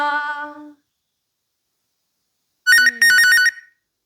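A phone ringtone sounds loud and close: a short sustained tone, a pause of about two seconds of silence, then a bright burst of rapid, trilling electronic ringing that stops abruptly.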